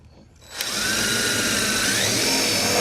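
A power drill driving screws into the metal body of a van, starting with a sharp click and then whining at a steady loud pitch nearby, with no talk.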